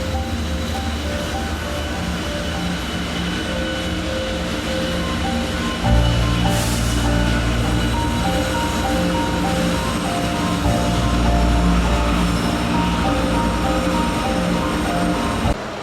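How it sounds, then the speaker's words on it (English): A westbound BNSF manifest freight train rumbles past close by in Kansas City, a deep continuous roar of engines and rolling wagons that swells and holds steady. "The next train to pass would be a westbound BNSF Manifest"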